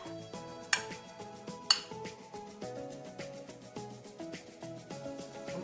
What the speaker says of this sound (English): Just give this a nice mix